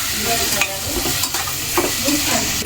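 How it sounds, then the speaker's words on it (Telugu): Tomatoes stirred while frying in a pan, a steady close sizzle broken by several scraping stir strokes, with no talk. "టమాటాలు వేసేసినాం. కలుపుతున్నాం."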